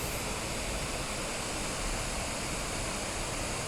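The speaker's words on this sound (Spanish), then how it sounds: "El agua que sale del lago viene a caer aquí." Waterfall where water flowing out of a lake drops down, a steady, dense, unbroken rush of falling water that stays even and loud throughout, with no voices.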